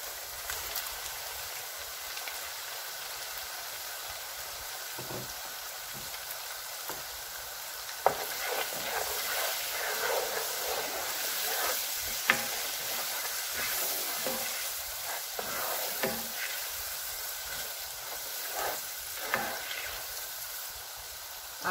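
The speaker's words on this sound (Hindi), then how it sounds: "8 से 10 मिनट मसाले को भूनना है मीडियम आंच पे।" Spices roasting in a pan over medium heat give a steady, moderate sizzle, broken now and then by soft scrapes and taps of stirring, with no voices throughout.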